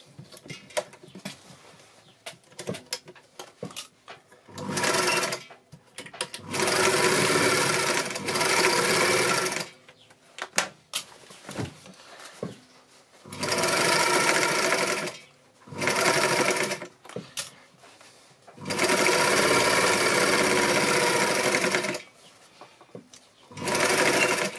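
A domestic sewing machine runs straight and zigzag stitches on a cushion cover, loud close whirring runs of a few seconds each, broken by quiet pauses with small handling clicks.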